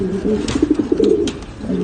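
Racing pigeons, newly paired for a national derby race, coo in a steady run of soft, low throaty calls close by, with a faint background hum and no talking.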